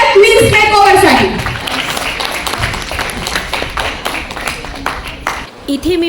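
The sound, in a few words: applause for the models' makeover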